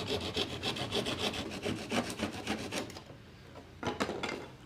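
A handsaw cuts through itaúba wood with quick, rhythmic back-and-forth rasping strokes, close and loud, then it slows to a pause and a few final strokes.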